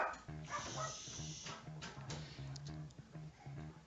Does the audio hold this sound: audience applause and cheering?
no